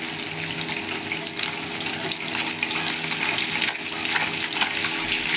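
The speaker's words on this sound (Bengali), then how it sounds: "এবার আমি মাছগুলোকে ভালো করে উল্টে পাল্টে ভেজে নেব।" Fish frying in hot oil in a kadai (wok) as the pieces are flipped, a steady, dense sizzle and crackle that continues loudly and close throughout, with no one talking.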